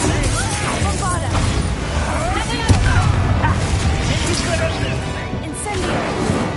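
A Bombarda blasting spell explodes in Hogwarts Legacy amid a dense, loud stretch of combat booms, crashes and spell effects, with shouted voices mixed throughout.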